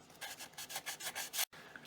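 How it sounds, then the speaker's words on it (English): Sandpaper rubs rapidly back and forth against wood, rounding the edges of a micro RC plane part in a steady rhythm of short rasping strokes, close up, then stops abruptly. "Didn't do a whole lot of sanding, just rounded the edges a little bit."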